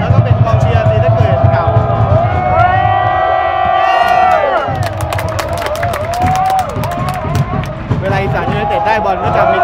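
Large crowd of Isan United and Sisaket supporters at a Thai league football match cheering, whooping and shouting continuously, swelling into a loud roar midway after Chonburi scores, with whistles and scattered voices throughout.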